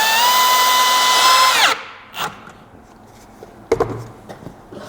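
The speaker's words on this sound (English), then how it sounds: "You're going to drive one screw." A power drill drives a screw into a drawer slide with a rising, steady whine that stops abruptly partway through, followed by a few faint clicks and knocks.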